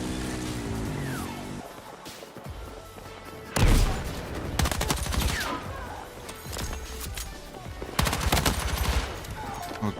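Submachine gun fire in a first-person shooter game, heard as several sharp rapid bursts with short gaps between them over a constant background game ambience.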